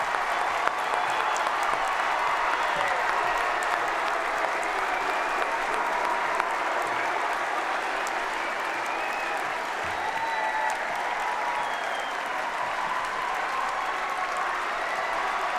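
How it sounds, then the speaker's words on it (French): Sustained, loud applause from a ceremony crowd honouring teachers and trainers, an unbroken wash of many hands clapping that holds level for a long stretch. "Nous allons vous applaudir très fort."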